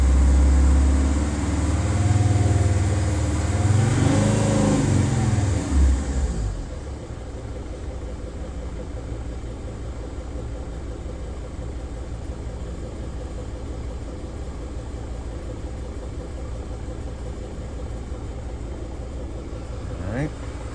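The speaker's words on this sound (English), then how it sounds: "This van is running properly as designed with the EGR opening and closing relative to the throttle position." A Mercedes Sprinter T1N van engine revs for a few seconds in a loud, rising and falling rumble, then drops back to a steady, quieter idle.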